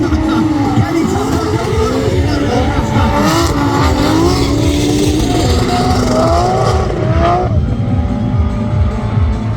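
Drift car sliding wide around a big corner on an autograss circuit, loud engine revs rising and falling with gritty tyre and gravel noise, a commentator talking throughout.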